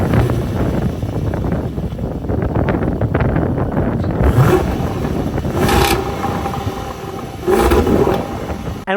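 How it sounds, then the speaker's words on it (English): Exhaust note of a Range Rover Velar SV Autobiography, a loud engine rumble with revving swells and some wind buffeting on the microphone, captured close to the tailpipes. "you've got these exhaust pipes that produce this sound."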